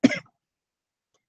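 A single short cough, close and clear, is followed by silence.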